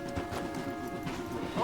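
Horse hooves clip-clop steadily on a trail in Red Dead Redemption 2, close and moderately loud, with in-game voices talking over the riding.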